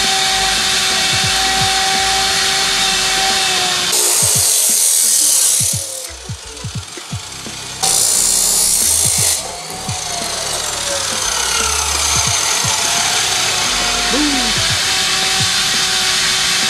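A power tool cuts through a handbrake part during a BMX-style detachable handbrake build for an R32 Nissan Skyline, a loud continuous grinding whine broken by two short bursts of harsher cutting.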